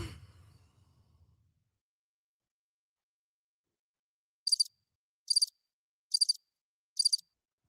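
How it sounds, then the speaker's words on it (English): Crickets chirp in four short, evenly spaced bursts of rapid high pulses, faint and isolated against near silence after a brief low breathy sound at the start. "Crickets, y'all."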